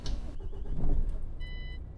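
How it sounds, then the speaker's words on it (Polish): A truck engine cranks and turns over in Euro Truck Simulator 2, a broad low rumble settling into idle, with a short series of electronic beeps near the end. "odpalimy sobie auto"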